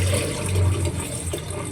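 Water is poured into a pot of lentil sambar, a brief soft splashing trickle close by, quiet and alone.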